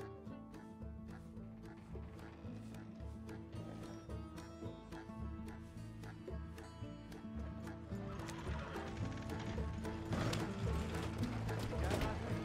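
Horse-drawn stagecoach in Red Dead Redemption 2: hooves clip-clopping in a steady rhythm with rattling, creaking wheels and harness, a horse whinnying, growing louder toward the end.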